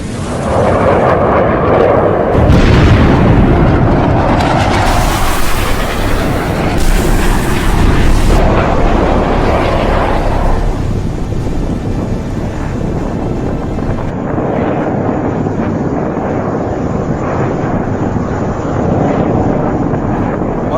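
F-15 fighter jet under attack: a loud, sustained roar of jet engine and wind-like rushing, with heavy blast-like surges early on, continuous and close with no pauses.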